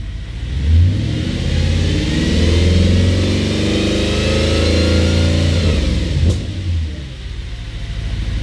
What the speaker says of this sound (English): let's give it some revs while everything is still cold